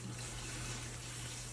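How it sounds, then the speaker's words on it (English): Tap water runs steadily into a kitchen sink as cabbage is washed for green chicken pozole, a constant close rushing with no voices. "Wash the cabbage."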